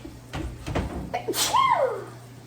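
A single abrupt sneeze from pepper while making nachos bursts out amid a few soft clatters, followed by a brief rising-and-falling vocal sound.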